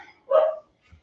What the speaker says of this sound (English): that's my dog joining in for the last morning.